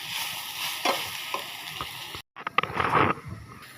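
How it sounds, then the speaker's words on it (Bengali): Drumstick leaves sizzle and crackle in hot oil in a pan, a steady loud frying hiss with stirring scrapes, a brief cutoff, then renewed bursts of sizzling. "এই যে এখানে আমি সাজনা পাতাটা তেলের উপরে ভাজতেছি।"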